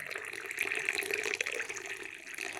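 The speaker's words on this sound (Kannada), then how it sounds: "ಈಗ ನೀರು ಹಾಕ್ತೀನಿ" Water is poured into a glass, a steady, moderately quiet splashing trickle that runs continuously without any talking.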